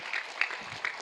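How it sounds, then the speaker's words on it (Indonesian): Audience applause at a Quran verse-continuation session for graduating students of a TPQ (Quranic school), a short steady patter of clapping with a few louder bursts. "Kasih tepuk tangan nih sekalian."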